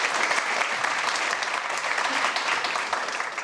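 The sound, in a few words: audience applause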